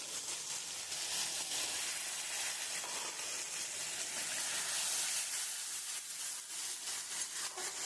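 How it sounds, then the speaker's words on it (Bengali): Cumin, bay leaf and cloves sizzling in hot oil for a jackfruit egg curry, a steady, soft, hissing crackle that holds evenly throughout with no voices. "আমি ওই তেলের মধ্যে আমি ফোড়ন দিয়ে দিচ্ছি জিরে, তেজপাতা, লবঙ্গ।"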